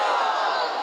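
Audience at a televised naat competition in Pakistan shouting a loud, dense chant in unison in response to a slogan, sustained and crowd-wide with no pause.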